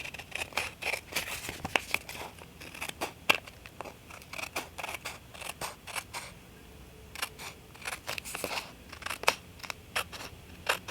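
Scissors snip through paper while a junk journal page is trimmed, making a quiet, irregular series of sharp crisp cuts with faint rustling between them.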